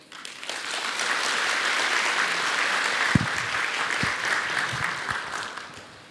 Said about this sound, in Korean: 제주특별자치도 치과의사회 장은식 회장님과 임직원 여러분께 깊은 감사의 박수를 부탁드립니다